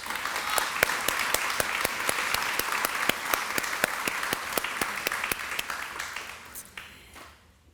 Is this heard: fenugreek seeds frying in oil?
no